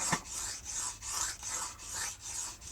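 A Cold Steel Recon Tanto knife blade is drawn across the coarse 220 side of an industrial diamond sharpening stone in about seven even, rhythmic rasping strokes, close and fairly quiet with no voices.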